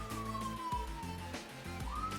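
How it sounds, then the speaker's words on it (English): A police siren wails faintly in the distance, its tone sliding slowly down and then rising again, with a low background rumble and no talking. "Really? More sirens?"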